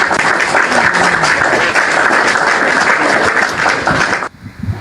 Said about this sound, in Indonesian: Berikan tepuk tangan yang gemuruh untuk Bang Juma.